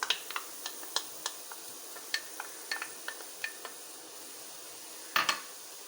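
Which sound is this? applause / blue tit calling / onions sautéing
onions sautéing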